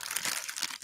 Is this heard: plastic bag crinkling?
yes